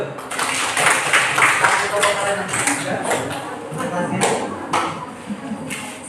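Classroom applause after a teacher's call, a dense patter of hand claps from a group of students and teachers filling the whole stretch at steady loudness, with voices mixed in underneath.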